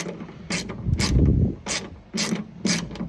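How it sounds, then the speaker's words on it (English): A ratchet tightens bolts on a 1965 Ford Mustang, its clicking pawl working in repeated close bursts over a grinding metal drive. "Grab a ratchet or a wrench. Just make sure to switch it around."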